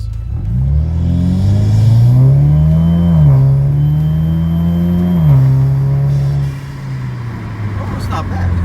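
A four-cylinder Cadillac ATS fitted with a ZZ Performance exhaust accelerates hard. The engine drone climbs steadily, steps through a shift, and keeps pulling loud and close before easing off near the end.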